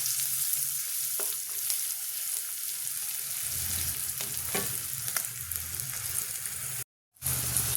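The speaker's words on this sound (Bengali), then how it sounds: "এবার আমি ঝাল মতো অল্প মরিচের গুঁড়া দিলাম, হলুদের গুঁড়াও দিয়ে দিলাম। দিয়ে ভালোভাবে নেড়ে নিই।" A home-style fry of small fish and greens with chilli and turmeric powder sizzling in a pan, a continuous close hiss with occasional light scrapes as it is stirred, briefly cutting out near the end.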